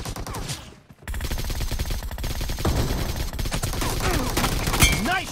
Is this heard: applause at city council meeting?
no